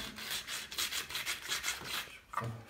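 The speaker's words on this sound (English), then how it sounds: "Firm sandpaper. Cuts it back and a bit of a straight edge." Firm sandpaper rubs back and forth over a plaster ceiling cornice during room restoration, giving about a dozen rhythmic, close rasping strokes that stop near the end.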